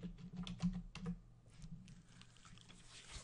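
Typing on a computer keyboard while working in Dreamweaver CS5.5, a quick run of soft close key taps at first, then lighter scattered clicks, faint and with no talking.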